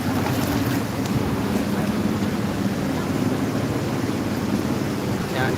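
A multicab drives through deep floodwater on a flooded street in Nabua, Camarines Sur, with a constant loud rush and churn of water and wind buffeting the microphone throughout.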